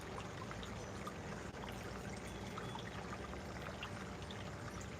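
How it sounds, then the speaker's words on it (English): Water recirculates from a tub through a hose into a gold sluice header box and back into the tub, a soft, steady pouring and trickling stream that is faint and continuous. "It's running right from this tub, and it's running through the hose into the smooth water header box, running right back down into the tub."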